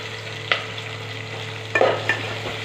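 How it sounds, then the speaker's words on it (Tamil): Shallots, garlic and curry leaves sautéing in oil for fish kulambu, a low steady sizzle broken by a few sharp scrapes and clinks of stirring in the pan. "கருவேப்பிலை எல்லாத்தையும் சேர்த்து நல்லா வதக்கணும்."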